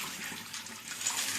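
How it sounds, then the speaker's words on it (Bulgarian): Water pouring out of a brass-cleaning tumbler after a wash cycle with steel media, a steady close splashing gush over a short stretch. "Първо изливам по-голямата част от водата."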